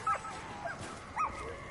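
A dog in a zombie shooter game lets out a few short barks and yips, spaced across a couple of seconds at moderate loudness over steady game noise.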